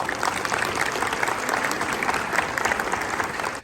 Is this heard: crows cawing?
no